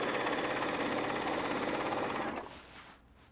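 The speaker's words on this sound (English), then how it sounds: "I've skipped the sewing machine and gone straight to the serger." A serger runs continuously, stitching fabric for a jacket, a loud rapid mechanical whirring that holds steady for over two seconds and then winds down and stops.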